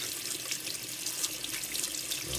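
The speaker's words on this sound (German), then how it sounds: "Das heißt also Wasser an und drunter halten." Tap water runs steadily over the washable filter of a Leifheit Regulus PowerVac 2in1 cordless vacuum as it is rinsed under a faucet, a continuous close splashing hiss with no talk.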